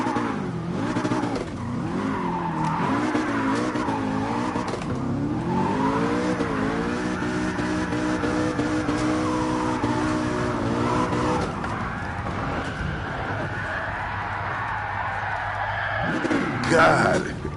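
A race car in Gran Turismo Sport roars through rising and falling engine revs as it accelerates, its tires squealing and skidding throughout, with someone talking over the engine.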